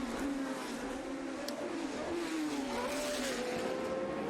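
1970s Formula 1 race cars howl around the Monaco street circuit, their high engine notes rising and shifting as they pass, loud and continuous with a crowd-like wash behind.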